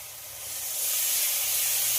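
Boiled cabbage dropped into spice paste sizzling in oil, giving a steady bright hiss that swells after the first moment and holds loud and close, with no voices.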